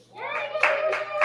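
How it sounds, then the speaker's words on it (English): Sparse clapping from a handful of people in a small audience at a storytelling fundraiser, a few separate bursts of claps plus a faint cheer, close and moderately loud. "like 4 people clapping"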